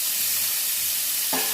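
Tomatoes hit browned onions frying in a hot pan, giving a steady close sizzle with stirring throughout and a sudden louder burst of hissing near the end as the wet tomatoes land.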